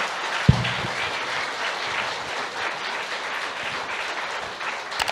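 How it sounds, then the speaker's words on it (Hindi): Loud audience applause at a network marketing motivational talk, a continuous dense roar of many hands clapping with one sharp thump near the start. "तो एक जोरदार तालियां होनी चाहिए।"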